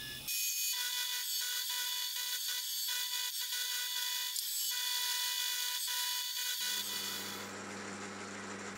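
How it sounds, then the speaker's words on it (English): A hand file scrapes burrs off a machined metal ram block for a fly press, a loud, close, steady run of repeated rasping strokes with no talking. "The setup always leaves really bad burrs, so a bit of sanding and filing does remove it."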